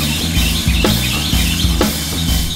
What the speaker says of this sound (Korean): 새들의 지저귀는 소리에 이른 아침을 시작합니다.